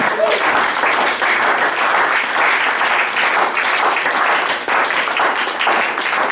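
Church congregation breaking into sustained, dense applause to acclaim the Lord during a sermon, loud and steady throughout.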